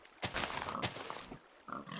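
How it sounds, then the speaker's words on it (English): Pigs in the video game Minecraft give a few short, quiet oinks and grunts, separate bursts spread across the moment, with no talking over them. "Right, just gonna quickly murder these pigs."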